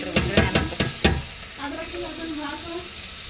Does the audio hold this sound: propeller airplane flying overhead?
no